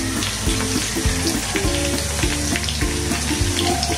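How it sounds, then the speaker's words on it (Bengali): Whole spices such as cinnamon, bay leaves, green and black cardamom and cloves frying in hot oil with onions for beef biryani, a loud, dense, steady sizzle close up, with a repeating low mechanical hum underneath. "একটু ভালো করে ভেজে নেব।"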